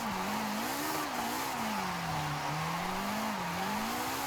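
A Toyota GR86 in Forza Horizon 5 spins out with a sustained tire squeal over a droning, wavering engine note, loud and continuous with small rises and dips in pitch.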